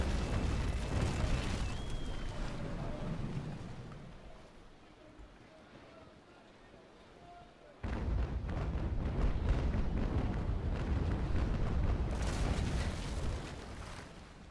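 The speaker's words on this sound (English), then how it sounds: "Really hope that's the Brig shooting at us and not our Trincomalee." Cannon fire from a brig in the Naval Action sailing game: heavy booming blasts and rumbling over wind and sea noise, with a quieter lull before a loud renewed barrage, while someone talks.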